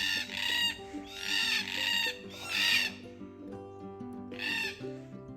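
Harsh, raspy calls from several red-tailed black cockatoos, repeated in bursts a second or so apart, fairly near, with a faint melodic tone underneath.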